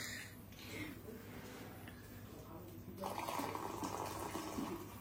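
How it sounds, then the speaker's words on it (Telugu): Water poured into a vessel in a home kitchen while coffee is being made, a soft gurgling fill that swells and brightens midway through, quiet and close. "వాటర్ వేసేయండి అబ్బా"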